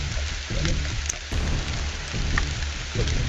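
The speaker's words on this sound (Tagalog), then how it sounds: "Lakas ng ulan tol." Heavy rain pours down in a steady, dense wash of noise that fills the whole stretch, with no voices heard.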